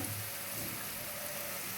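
Raw banana pakoras frying in hot oil give off a steady, dense sizzle with a faint crackle throughout, close and continuous with no voices.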